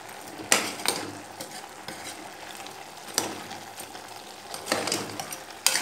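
Country chicken fries and is stirred with pepper and spice powders in a pan, a steady sizzle under repeated scraping and clanking strokes of a spoon against the metal, close and fairly loud.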